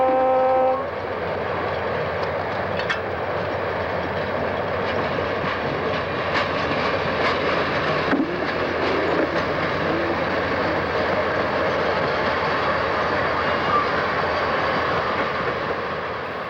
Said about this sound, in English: On the point is an Alco C630, one of 27 from the Reading and the Penn Central.